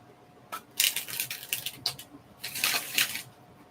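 Tarot cards are shuffled close to the microphone in a quiet room. The riffles and slaps come in two short bursts of crisp, fluttering snaps, with a brief pause between them.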